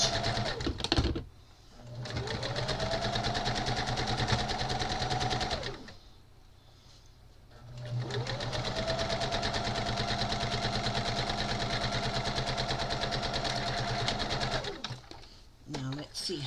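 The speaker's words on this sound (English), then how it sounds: "I'm going to stitch them first" A sewing machine stitching crazy-quilt pieces runs in two long steady bursts of rapid, even hum and clatter, separated by a brief pause, close and fairly loud.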